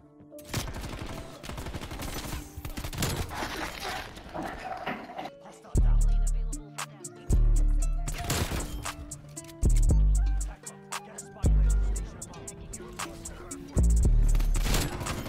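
Akimbo 1911 pistols firing in Black Ops Cold War, with sharp shots in quick clusters and several heavy, booming reports landing at a fairly regular pace, loud and close.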